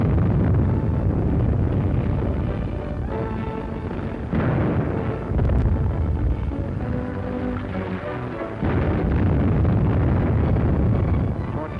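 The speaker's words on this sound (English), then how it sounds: "The huge guns subjected the city to a bombardment of incredible fury" Heavy artillery bombardment of a densely populated city, a continuous, dense roar of booming fire and rumbling blasts that stays loud throughout with only brief dips.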